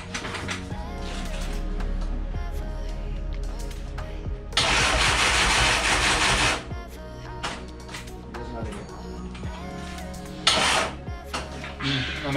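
Renault F4R turbo car engine being started in a workshop: a steady mechanical running hum, then a loud burst of cranking and revving for about two seconds, another short surge later, with clinking tools and brief voices around it.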